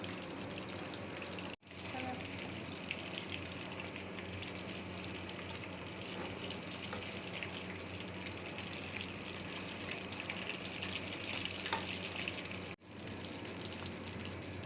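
Continuous busy sizzling of chicken pieces frying in oil, steady and close, with two brief gaps where the sound drops out.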